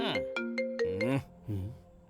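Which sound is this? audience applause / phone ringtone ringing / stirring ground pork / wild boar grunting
phone ringtone ringing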